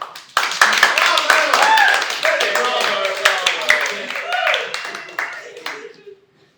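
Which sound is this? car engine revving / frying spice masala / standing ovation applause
standing ovation applause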